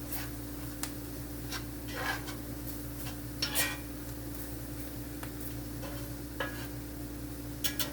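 A flour roux for scratch-made onion gravy cooks in a pan. Faint, scattered scrapes and taps of stirring sit over a low, steady sizzle with no talking.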